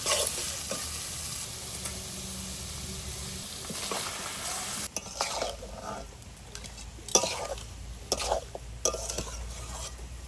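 Chicken frying in a pan with gondhoraj lemon leaves, a constant close sizzle broken by stirring scrapes and clinks of the utensil against the pan, which grow busier in the second half.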